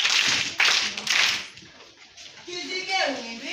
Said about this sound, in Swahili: Sasa makofi matatu.